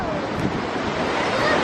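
Ocean surf washing onto a sandy beach, a steady broadband wash with wind noise on the microphone, continuous and fairly close throughout.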